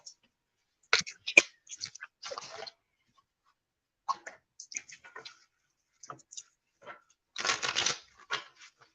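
Tarot cards being shuffled and handled in short bursts of riffling and clicking, quiet and close, with a longer rustling shuffle near the end; a little speech-like sound between.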